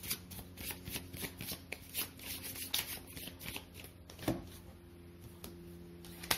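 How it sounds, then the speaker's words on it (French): Tarot cards being shuffled and drawn, with a rapid run of close riffling flutters followed by a few softer single card snaps and slides, quiet and without speech. "Je vais d'ailleurs tirer une petite carte en complément."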